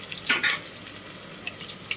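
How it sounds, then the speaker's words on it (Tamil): Crushed garlic goes into hot groundnut oil and ghee in a cooker, giving a brief loud hiss and crackle at the start that settles into a soft, steady sizzle with scattered pops. "ஃபஸ்ட்டு பூண்டு போடுறேன்."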